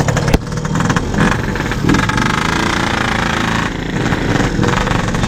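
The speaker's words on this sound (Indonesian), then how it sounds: "Berisik banget mesinnya." A Yamaha RX King motorcycle engine runs loud and close, a rough, rattling, steady roar with slight surges.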